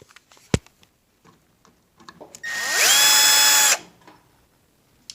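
A power drill whirs for about a second and a half on the bolts of an old GE coin-op dryer, with scattered clicks and taps of handling before and after.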